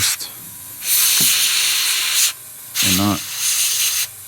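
An airbrush sprays thin paint onto a model tank in short hissing bursts of a second or two each, separated by brief pauses, close and fairly loud, with a short vocal sound between bursts.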